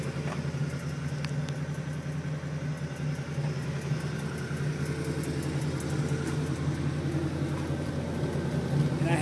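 A 1970s-era Maserati Quattroporte III, smoky after sitting unused, runs at a steady idle with a continuous low, even engine drone and a slight rise in level near the end.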